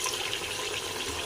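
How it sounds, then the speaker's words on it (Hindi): Water pours steadily from a glass into an egg and potato curry, a soft continuous splashing and trickle, close and fairly quiet, with no speech. "हाफ गिलास इसमें पानी लगाएंगे"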